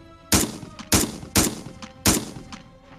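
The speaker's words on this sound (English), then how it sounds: "But repeated loud bangs are much more likely to be gunfire." Four sharp, loud gunfire bangs ring out about half a second to a second apart, each trailing a short echo, with no voices.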